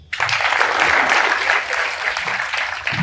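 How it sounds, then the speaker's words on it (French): Thunderous audience applause at an awards ceremony for a communal general competition in Yeumbeul, starting sharply and holding dense and loud for about three seconds with no voices. "Des tonnerres d'applaudissements, s'il vous plaît, encore pour Arambian."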